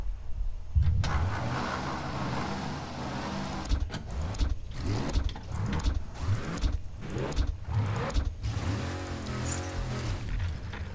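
A loud car engine in the video game Mafia I starts and runs, with a rough low rumble and repeated revving bursts after a short quiet start, heard close with no talk.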